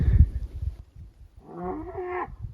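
A cow calls in the dark while hikers pass on a mountain trail in Croatia: a low, drawn-out moo rising from rustling footsteps, moderately loud and fairly near, lasting under a second.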